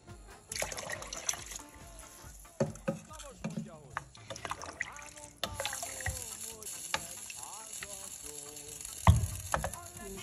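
Water pours into a pot of chicken tarragon ragout soup, a trickling, splashing stream mixed with clinks and kitchen knocks, with someone talking over it.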